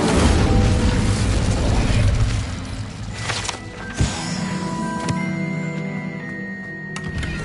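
A fire spell cast in Hogwarts Legacy bursts loudly and dense over a roaring rumble, with a sharp burst at about four seconds and a fading crackle trailing after it.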